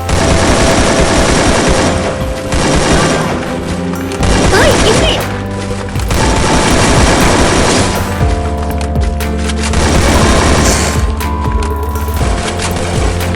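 Rapid AK rifle gunfire in the Free Fire battle royale game, dense bursts of loud automatic shots with booms and crashing impacts over a steady game soundtrack, running continuously with brief pauses.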